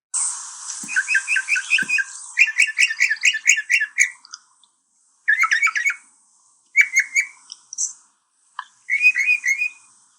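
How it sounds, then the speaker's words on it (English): A northern mockingbird sings loud and close in rapid bursts of repeated whistled and chattering phrases, each burst a few notes long, separated by short silences. "the mockingbird is a slender songbird with an unusually long tail"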